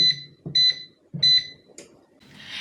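An air fryer timer sounds three bright, evenly spaced electronic beeps at close range. A soft click and a rising fan whoosh follow.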